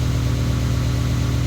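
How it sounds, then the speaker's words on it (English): A truck engine held at raised idle drones steadily and close by, a deep, even rumble with a slight vibrating throb that runs unbroken from start to end, with no voices over it. "Idling the truck up helps a lot."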